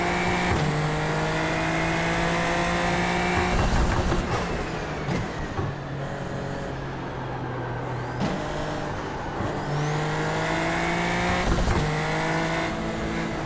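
A racing car engine in a video game at Spa revs high and shifts repeatedly, pitch climbing then dropping, with a few bursts hitting the rev limiter; loud and close.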